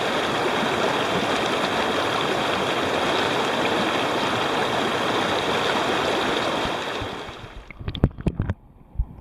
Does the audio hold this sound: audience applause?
no